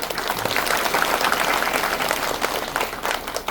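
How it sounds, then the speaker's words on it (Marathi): An audience at a kirtan gathering in Pandharpur bursts into dense, sustained applause for the maharaj, many hands clapping together as a fairly loud, continuous wash with no talking over it. "एकदा महाराजांसाठी टाळी वाजवा गोड"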